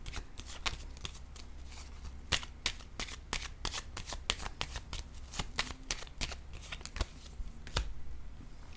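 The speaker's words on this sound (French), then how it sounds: "Sur le palmier, je vais déposer une carte encore pour avoir des détails." Tarot cards being shuffled by hand at close range: quick riffling and slapping strokes in an irregular rhythm, fairly quiet, with no one talking.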